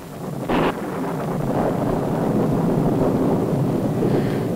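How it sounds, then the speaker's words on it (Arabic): Wind roars steadily through a stormy night, with a brief sharp crack early on and a rumbling wash that builds and stays loud, with no voices. "يعني لازم الرعد والبرق ده في اول ليله لجوازنا؟"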